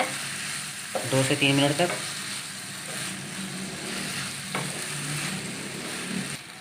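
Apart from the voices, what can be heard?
frying in a pan for Spanish omelette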